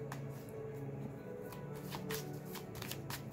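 Tarot cards shuffled by hand in a steady, rapid riffling that runs the whole time, close and soft under a faint background hum, with no talking.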